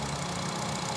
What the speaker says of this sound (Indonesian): Dan ini untuk suara mesinnya. Halus, standar, normal.